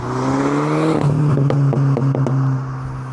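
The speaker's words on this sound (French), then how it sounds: "La voiture, quand t'accélères, elle fait vraiment, elle se cabre." A Mini car's engine revs hard as it accelerates, a loud rising roar with rapid crackling pops layered over the steady engine drone before it settles back.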